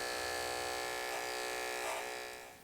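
Electric hair clipper running steadily and close with a continuous buzzing hum, its tone shifting slightly as the blade cuts and fades hair during a comb-over haircut with a hard part.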